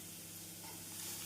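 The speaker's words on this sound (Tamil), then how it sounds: "இந்த அளவு நன்றாக வதங்கவும் நாம் நறுக்கிய தேங்காய் சில் சிறிது சேர்த்து விடலாம்." Quiet, steady sizzle of chopped radish and coconut sautéing in a pan for radish chutney, a soft continuous frying hiss with faint low hum and no talking.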